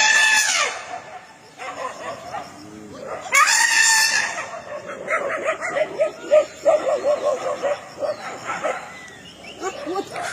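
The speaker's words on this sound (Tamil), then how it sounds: "ஒற்றை காட்டு யானையை விரட்டிய இரண்டு நாய்க்குட்டிகள்" Two puppies bark and yelp excitedly at a wild elephant near homes at a forest edge, amid other animal cries and high squeals, with a voice talking over parts of the commotion.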